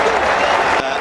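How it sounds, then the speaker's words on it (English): A cricket stadium crowd at AMI Stadium stands and applauds a departing batsman, a brief, loud wash of clapping and cheering with a commentator's voice running over it. "we'll just let this crowd stand and applaud"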